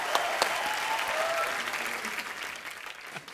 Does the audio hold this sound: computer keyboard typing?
no